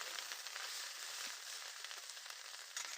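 Taro stolons (kochur lati) cook with fish roe, salt and turmeric in a pan, giving a faint, continuous sizzle and hiss with no talking.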